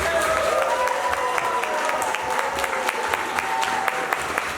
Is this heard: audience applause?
yes